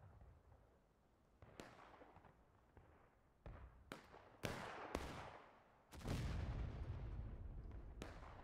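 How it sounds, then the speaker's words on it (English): Artillery barrage in the Civil War game War of Rights at Limestone Bridge: several heavy booms land at irregular intervals, some distant and some closer, with a rumbling blast near the end. "Just eat arty fire."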